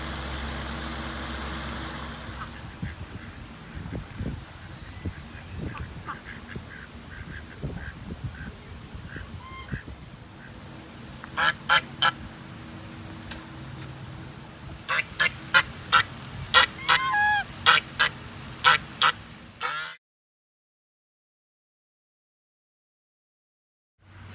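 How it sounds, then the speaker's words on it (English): Ducks quack and honk in scattered bursts at a moderate distance on an island over outdoor background noise, calls bunching up near the end before sudden silence. "Can you see the ducks on the island out there?"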